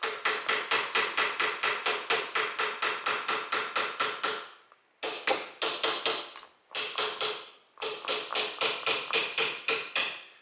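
Rapid, steady metal hammer blows on a Ford front axle driveshaft ring out in long runs, broken by two brief pauses, loud and close with a bright clanging tone.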